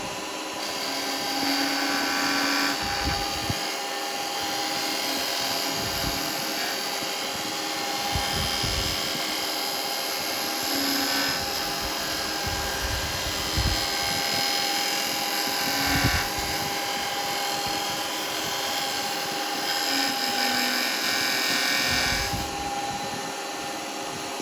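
A wood lathe spins a spinning top blank while a tool rolls beads into it, a steady whining motor hum with shifting cutting noise and brief rough bursts as the tool meets the wood, continuous for the whole stretch.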